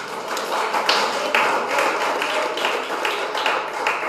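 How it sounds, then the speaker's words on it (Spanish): A church congregation claps hard and fast in a sustained round of crisp, close handclaps throughout, with no pause. "Dele palmas fuertes."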